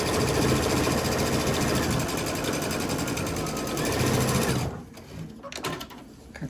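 Sewing machine stitching T-shirt quilt blocks, a loud steady rapid mechanical whir for about four and a half seconds that then stops, followed by a few faint clicks and handling sounds.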